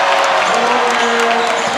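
Basketball crowd at a high school game cheering in a gym, a loud, dense roar of applause and voices that holds steady throughout.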